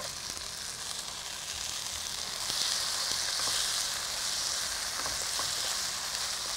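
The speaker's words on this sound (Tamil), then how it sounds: "தக்காளி சேர்த்து வதக்கும்போது" Tomatoes sautéed in a frying pan over onions that are already softened, a continuous close sizzle that swells partway through, with faint scrapes of stirring.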